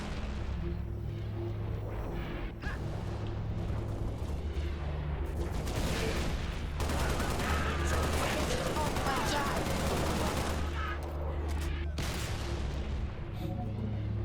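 Rapid, sustained gunfire from the video game Halo Reach, dense bursts of shots and booms filling most of the stretch with a steady low drone beneath, while a voice talks intermittently over the action.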